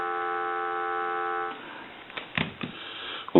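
An India wood wall telephone gives a steady, continuous dial tone for about a second and a half, then cuts off and gives way to soft clicks and handling noises.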